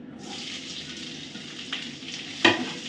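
Onion and green chillies fry in mustard oil in a kadai, giving a steady close hiss with a faint tap partway through and a sharper clatter near the end.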